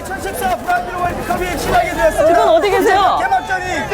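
A dense crowd streams out of the Arena de São Paulo after Brazil's opening World Cup win over Croatia in 2014. Loud, festive chatter, shouting and hubbub come from close by and hang under a reporter's speech throughout.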